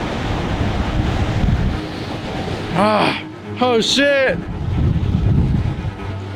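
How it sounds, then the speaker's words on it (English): Fierce wind on an exposed hilltop pounds the microphone with a loud, constant low roar, and a voice breaks through it briefly in the middle. "It gets windy to the point where you gotta stand different."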